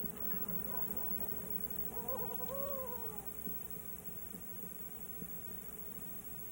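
Owl hooting near a nest in a zelkova tree, a few soft, low, wavering hoots rising and falling around the middle, faint and distant over steady background hiss.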